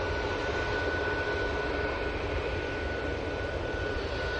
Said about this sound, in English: Awesome arrival. 777 power.